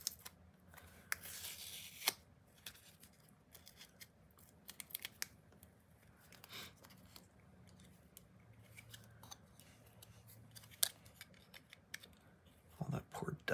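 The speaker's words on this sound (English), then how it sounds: "Peel this off." Adhesive backing is peeled off a 3D printed cutting jig in a series of close, sharp crinkling rips and scratchy tearing bursts, separated by quiet handling and faint rustles.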